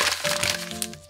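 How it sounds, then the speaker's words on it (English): Paper being crumpled by hand to give it an aged texture, a loud, close burst of crackling and crinkling that fades over about a second. "We're gonna crumple it, we're gonna open it back up."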